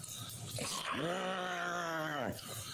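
A person imitates an angry dog, a low guttural growl drawn out for over a second, close and fairly quiet, with no words spoken.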